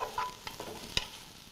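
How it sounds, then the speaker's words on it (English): Onions sautéing in a pot with a bay leaf and a sprig of thyme give a soft, steady sizzle, broken by a few short stirring scrapes and one sharper clink of a utensil. "We're just going to saute this up until they've become translucent and somewhat soft."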